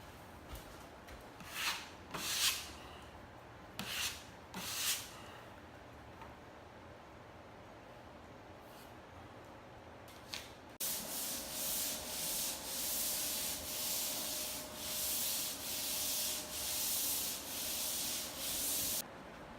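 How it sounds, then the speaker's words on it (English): A few short scraping strokes on a ceiling, a pause, then steady rhythmic fine sanding strokes over touch-ups, light and even, repeating back and forth. "Doing a little fine sanding, finishing light sanding on all the touch-ups"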